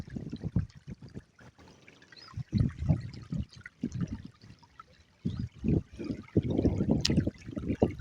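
Irrigation water trickles and gurgles into a bed of a farm field at a home farm plot, an uneven burbling flow in short bursts and pulses close to the microphone, with no talking.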